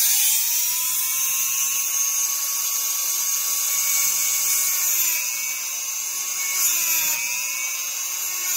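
A steady, high-pitched electric grinding whine from a small power tool filing piston ring gaps for a 1971 Triumph Tiger 650cc motorcycle, running continuously at close range with slight shifts in pitch.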